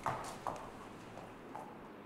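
Horse hooves clip-clop at the Lipica stud farm, a few spaced hoof strikes heard faintly at a distance over steady outdoor background noise.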